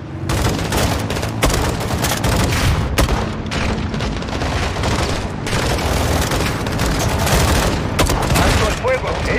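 Dense, continuous gunfire with bursts of automatic fire and booms, loud and close, with shouted Spanish voices mixed in, from the video game Call of Duty: Modern Warfare 2.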